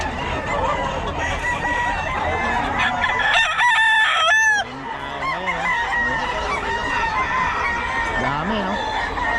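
Gamefowl roosters crow loudly and repeatedly at close range, one long crow standing out over overlapping crows and clucks from many birds, with voices talking in the background.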